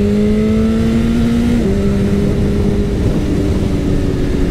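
A motorcycle's exhaust drones loudly and close, holding a steady engine note that steps up in pitch as it revs, with no talking.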